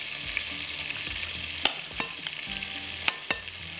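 Marinated drumstick kababs frying with garlic in butter, a constant hiss of sizzling fat punctuated by several sharp utensil clicks against the pan, with no talking.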